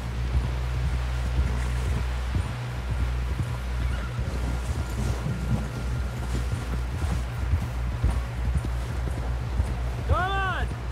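Horses gallop in the Red Dead Redemption 2 video game, a rapid drumming of hooves under wind and steady low rumble, with people talking over it and a horse whinnying near the end.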